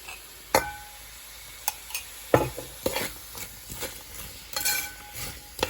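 Tomato rice ingredients are sautéed in ghee in a pan, with a soft sizzle beneath scattered clinks and scrapes of a spoon stirring at an irregular pace.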